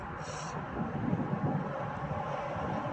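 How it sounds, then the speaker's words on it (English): Continuous wind rushes and rumbles against the microphone while bass fishing outdoors, a steady mid-level roar with slight gusting throughout. "it's getting kind of windy"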